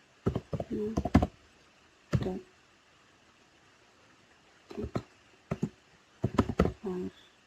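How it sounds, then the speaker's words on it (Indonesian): Fingers clatter on a computer keyboard in short, close bursts of clicking keystrokes, separated by quiet pauses, with a voice briefly speaking amid the typing. "Sini kita ketik"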